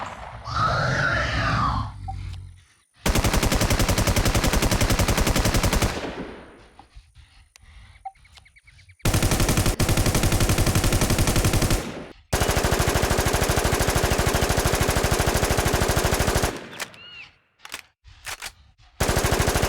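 An MP5 submachine gun fires in the video game Infestation, in long, loud bursts of rapid automatic shots separated by brief silences, with a few short bursts at the end.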